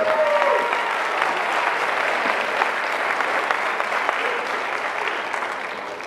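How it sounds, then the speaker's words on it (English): Audience applause at a school winter concert, steady dense clapping from a seated crowd filling the hall, loud and sustained throughout before gradually thinning at the end. "let's give a nice round of applause for Mr. Rittenhouse, Mr. Murphy"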